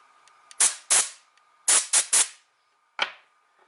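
Short blasts of compressed air from an air compressor nozzle blowing out a CityCoco electric scooter part under repair, six sharp loud hissing bursts in uneven groups, close by, with no talking.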